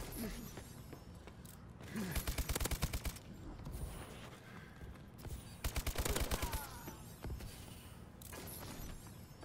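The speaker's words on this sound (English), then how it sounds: "This guy's the other good LMG, the Pytech." Bursts of Pytech LMG fire in a video game, two long rapid-fire volleys of sharp repeated shots around mechanical clicks and ambient game noise, with quieter shots between the main bursts.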